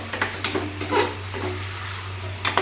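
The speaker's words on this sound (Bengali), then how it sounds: "যে মশলাটা আমি কষিয়ে নিয়েছিলাম সেইটা মাংসের মধ্যে ভালো করে কষিয়ে নিয়ে" Spiced chicken kosha is stirred and fried in a pan: a constant sizzle runs under repeated short scraping strokes, roughly twice a second, then pauses and scrapes again near the end, over a steady low hum.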